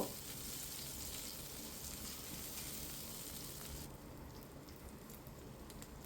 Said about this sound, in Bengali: পেঁয়াজগুলো ভালো করে ভাজা করে নেব। আমি একটু লাল লাল করে ভাজা করব।